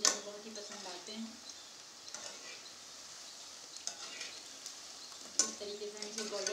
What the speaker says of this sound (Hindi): इस तरीके से हम इसे गोल्डन ब्राउन होने तक पका लेंगे।